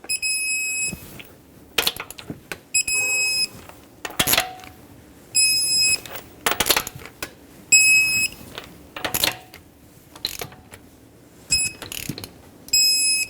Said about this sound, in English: you're going to want to torque this to 83 foot-pounds